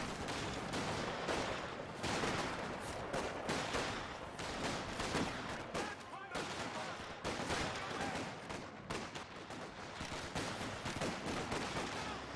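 Gunfire in a Company of Heroes 2 match, with 6-pounder anti-tank guns among dense, continuous battle noise of repeated shots and blasts lasting throughout, loud and busy.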